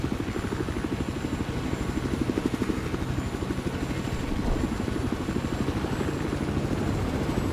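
A helicopter's rotor in Battlefield 4 on the Golmud Railway map thumps steadily throughout, a continuous rapid chopping drone at constant loudness with no talking.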